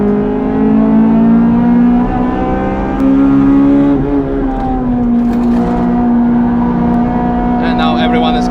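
A Honda Civic FD2 Type R on the Nürburgring: its engine drones loud and close from inside the car, holding steady high revs with brief shifts in pitch, while a voice talks over it.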